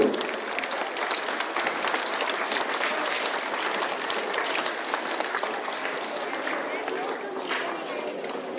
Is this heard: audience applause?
yes